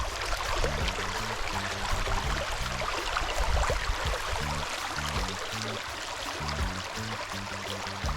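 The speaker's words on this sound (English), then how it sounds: "Water flow nice." Stream water flows at an outdoor riverside cooking spot, a continuous broadband rush and babble, steady and moderately close, with faint background sounds mixed in.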